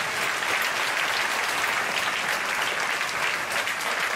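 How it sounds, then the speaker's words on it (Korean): A congregation at a Friday night worship service claps for the youth group, with dense, steady applause holding at an even level for the full few seconds. "자, 우리 청년부를 위해서 한번 박수하겠습니다."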